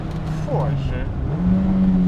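A BMW 320is E30 with its S14 four-cylinder engine revs up and climbs in pitch, a loud close rasp over about two seconds with someone speaking over it.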